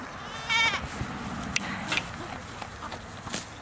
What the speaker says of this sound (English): Yes, you silly goat.